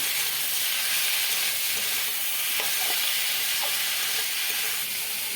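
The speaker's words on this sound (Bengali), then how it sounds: "এবার দিয়ে দেবো আলুগুলো দিয়ে এবার ভালো করে মশলার সাথে কষিয়ে নেব" Potatoes frying with spices in a pan, being stirred, a steady loud sizzle and hiss with a few soft scrapes of the spoon scattered through it.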